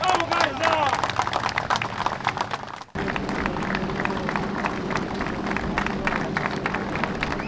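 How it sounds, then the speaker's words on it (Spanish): Crowd applause for the Canapino family in La Plata: dense, continuous clapping mixed with crowd babble and voices, briefly cut off near the middle before resuming at a steady level. "los aplausos de todo el mundo para los Canapino en La Plata"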